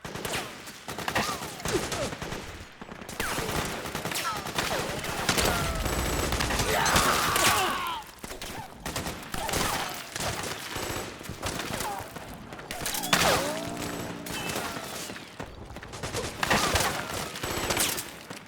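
Gunfire in Metal Gear Solid 4: Guns of the Patriots, with dense, sustained bursts of automatic fire and scattered shots through a battle scene, loud and continuous, with shouted voices now and then.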